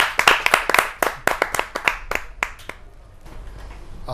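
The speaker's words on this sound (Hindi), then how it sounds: "जोरदार तालियों से आमंत्रित कीजिए प्रवीण आर्य जी।" A small audience at a Hindi kavi sammelan, a poetry gathering, claps in a quick, uneven burst of sharp, close handclaps that thin out and fade to a quiet room after about three seconds.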